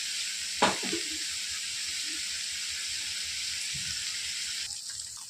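Oil sizzles steadily in a pan while paneer masala is being made, a continuous bright hiss with a brief clatter near the start and soft stirring knocks, no talking.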